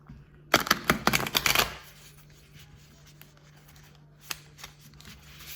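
Two tarot card decks shuffled up close: a burst of rapid riffling flutter lasting about a second, then quiet handling with a couple of soft card taps.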